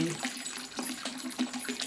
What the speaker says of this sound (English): And now we're going to add water to bring this up to